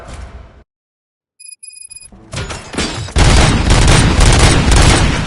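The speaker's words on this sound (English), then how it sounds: "Gunshots? What's going on?" Gunfire erupts in the video game RoboCop: Rogue City, starting as scattered shots after a moment of near silence and a few electronic beeps, then building into a loud, sustained barrage of shots and booms.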